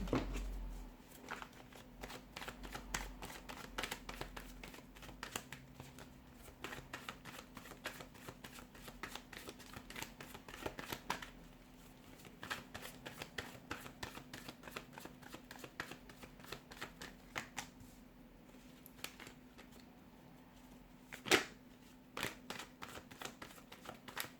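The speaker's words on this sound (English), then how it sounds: "let's give the cards a shuffle and let's begin." Tarot cards are shuffled steadily for a long stretch, giving soft rapid riffling and flicking close by, fairly quiet, with no talk.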